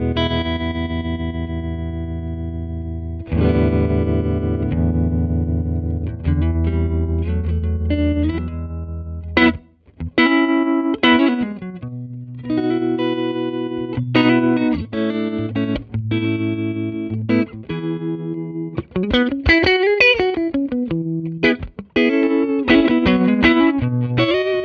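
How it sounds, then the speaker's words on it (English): Electric guitar played through a vintage Fender amp with its vibrato switched on, sustained chords and single notes wobbling in a pulsing tremolo with distortion and reverb, phrases stopping and restarting, some runs climbing high. "let's go hear what that vibrato sounds like."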